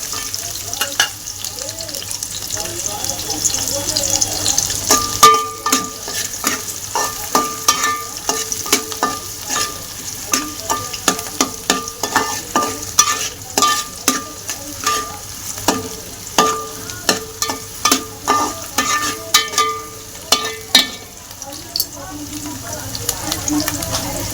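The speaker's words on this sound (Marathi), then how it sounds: "चांगला कांदा करून घेऊ" Onions fry in a pan, crackling steadily while a utensil scrapes and stirs in a quick, uneven rhythm, close by and moderately loud.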